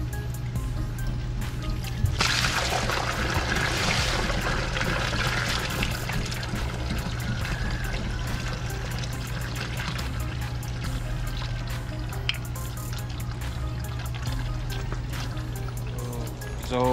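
Water pours and drains steadily from two pond filter chambers during cleaning, a continuous loud rushing and trickling wash that holds for the whole stretch with a few small knocks and no talk.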